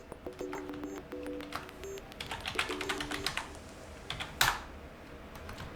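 A password is typed on the keyboard of an Acer Predator 17 laptop, a quiet, close run of irregular key clicks with a few soft electronic beeps and one louder clack near the end.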